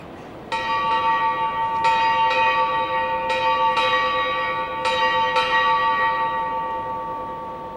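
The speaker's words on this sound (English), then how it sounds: "8 bells were sounded." A ship's bell rings eight bells at a parade: clear, ringing metallic strikes in spaced pairs, each leaving a long resonant hum, with no talking.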